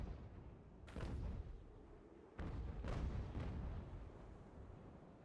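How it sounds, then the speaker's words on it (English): Naval cannons fire in the sailing-ship battle game Ultimate Admiral: Age of Sail, two rumbling volleys of booming shots a second or so apart, each trailing into a low roll. "just fire the guns"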